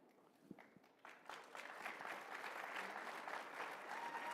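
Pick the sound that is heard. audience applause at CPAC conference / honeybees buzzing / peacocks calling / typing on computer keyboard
audience applause at CPAC conference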